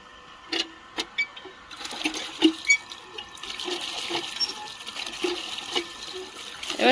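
Water flowing from a motor-driven supply, a steady running wash with several sharp knocks and splashes scattered through, close and fairly loud.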